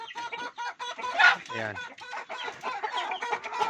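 Backyard chickens in rural La Union cluck and squawk close by in short repeated calls, and someone speaks briefly over them.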